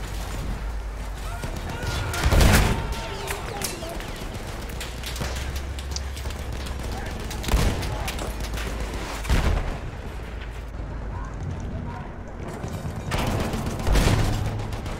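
Mortar fire in a tank video game, with heavy booming impacts around 2.5, 7.5, 9.5 and 14.5 seconds over a constant rumbling engine and battlefield din.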